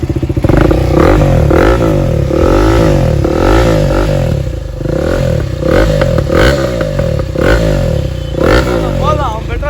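KTM Duke 390 fitted with an Austin Racing exhaust revs loudly and continuously nearby, its engine note rising and falling in repeated sweeping blips, with voices talking underneath.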